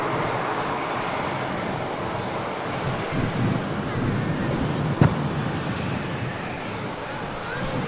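Steady gusting wind roars across an outdoor spot at Manchester Airport, a broad continuous rush with buffeting against the microphone and a brief sharp knock partway through.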